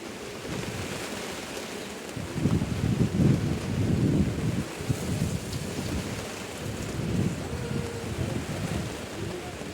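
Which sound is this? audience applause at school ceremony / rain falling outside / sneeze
rain falling outside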